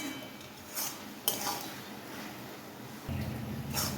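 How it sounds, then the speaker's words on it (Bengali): A spoon stirs and scrapes cabbage curry in a pan, with clinks and light metallic knocks over a faint background, and a louder low rumble entering near the end. "এইবার শুধু এটাকে সুন্দর করে কষা কষা করে নাড়ানোর কাজ"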